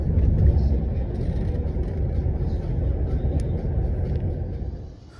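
A taxi car rumbles along a road in Krakow on the way to a hotel, a steady low engine and tyre drone heard from inside that fades slightly near the end.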